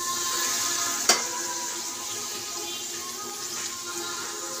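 Mushrooms drop into spiced masala frying in a pan for mushroom chicken, giving a steady close sizzle with one sharp clatter near the start.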